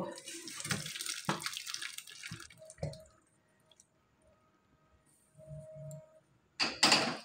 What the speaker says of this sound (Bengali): দিয়ে এবার আমগুলো আমি ছেঁকে নেব।